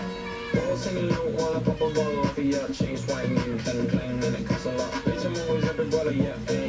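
A cat at a farm resort meows repeatedly in short cries, mixed in with people talking over busy background noise.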